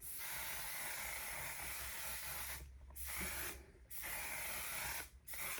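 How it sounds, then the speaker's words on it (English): Steady hissing bursts of a mattifying waterproof makeup setting spray, three to four long sprays separated by short pauses, close and fairly loud with no talking. "This One Size mattifying waterproof setting spray."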